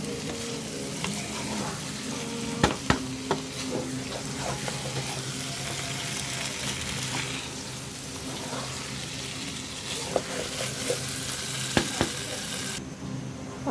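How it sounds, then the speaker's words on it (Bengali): Polao rice stir-fried with potatoes in a hot pan for biryani, giving a continuous close sizzle with a few sharp clicks of a spoon against the pan. "চালটা খুব ভালোভাবে কষায় নেব ভাজা ভাজা করে।"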